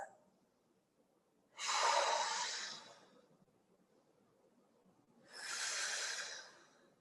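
Two long, breathy exhales are heard up close during a kettlebell fitness stretch, each a steady airy rush lasting over a second, separated by quiet pauses.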